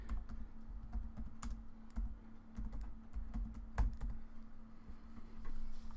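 Text is typed on a computer keyboard as a quiet, uneven run of key clicks and taps, close up over a low electrical hum, with no talking.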